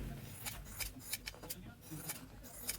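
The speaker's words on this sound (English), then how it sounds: "Take your prepared base page and tearaway stabilizer. Cut out the printed area." Scissors snip through a printed felt page backed with tearaway stabilizer, with repeated short crisp cuts in an uneven rhythm, close and fairly quiet, no talking.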